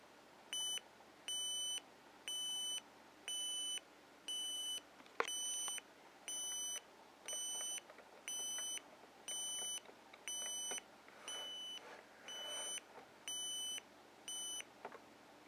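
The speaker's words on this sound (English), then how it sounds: "So, I'll go ahead and I'll set the buzzer." Regular electronic alarm buzzer from a Sony Digicube ICF-C103 clock radio, beeping in evenly spaced short pulses about once a second for fifteen seconds, clear and alone against a quiet room with faint handling noises.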